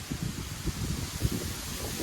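Strong wind blows outdoors among mountains and trees, a steady rumbling, buffeting roar close to the microphone with faint rustling. It stays continuous throughout, with no talking.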